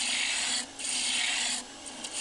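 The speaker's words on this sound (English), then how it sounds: "Again, removing some excess material with the roughing gouge." A roughing gouge cuts wood on a lathe, giving a continuous hissing rasp with two brief dips as the tool lifts off, fairly quiet and steady.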